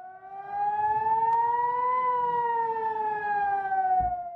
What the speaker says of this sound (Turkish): birçok noktada sirenler çaldı